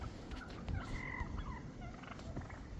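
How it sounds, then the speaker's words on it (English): Wild turkeys gobbling as a flock gathers after a snowstorm, several rattling gobbles and clucks overlapping at moderate distance against a steady outdoor background, no voices. "these wild turkeys haven't seen each other for a few months, and now they're all flocking up and establishing their pecking order here"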